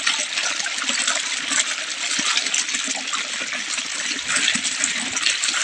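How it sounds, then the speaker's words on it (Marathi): Water splashing steadily on a farm as someone washes hands, feet and face, a close continuous wash of spray and trickle with no pauses and no talking. "म्हणलं हात पाय तोंड धुवावं आणि निघावं इथं आता."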